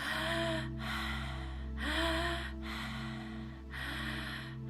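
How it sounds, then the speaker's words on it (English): Deep, slow breaths in a guided breathwork exercise, drawn into the belly through the mouth in three long, steady cycles. Each breath is a soft, airy rush that rises and falls, with a steady low hum running underneath. "The breath is connected, smooth, flowing. Keep breathing."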